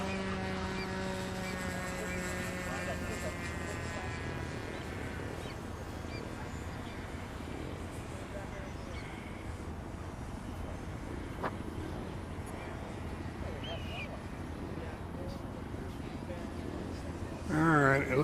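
A radio-controlled B-17 model bomber circles around to line up a landing, its engine drone held steady at a distance under continuous wind noise, with a brief louder burst near the end.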